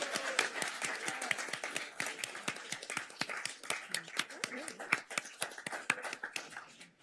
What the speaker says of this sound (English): and now everybody can clap.